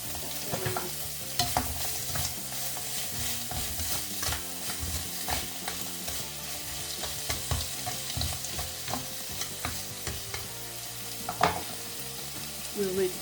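Rice and shrimp stir-fried in a pan for a Filipino-Bosnian fried rice, with steady sizzling broken by repeated scraping and clattering strokes of the utensil, moderately close and without talk.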